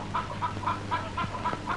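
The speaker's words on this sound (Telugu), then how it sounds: "ఇదిగోనమ్మా కోడి, చాలా తిరిగి తిరిగి అట్టుకొచ్చానమ్మా" A chicken clucking close by, a quick series of short repeated clucks in a steady rhythm over low background noise.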